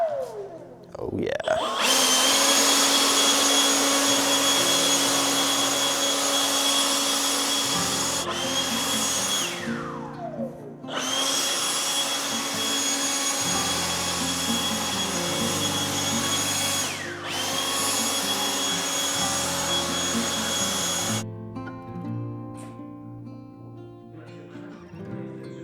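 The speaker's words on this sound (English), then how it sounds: "I've got this handy dandy leaf blower. Can I clean up this floor?" A leaf blower used to clean a garage floor at an abandoned house, roaring loud and close for over twenty seconds with a few brief dips in power, then cutting off near the end.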